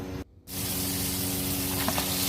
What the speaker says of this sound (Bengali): প্যানে পরিমাণ মতো তেল দিব, আধা কাপ পেঁয়াজ ছেড়ে দিব, পেঁয়াজটাকে একটু ভেজে নিব